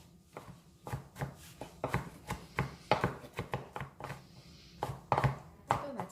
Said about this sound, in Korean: 자, 피클도 다져줄 거예요.